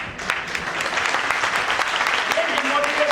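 Crowd clapping at a network marketing training seminar in Meerut, a dense burst of applause from a large audience filling the room, with a voice speaking faintly near the end.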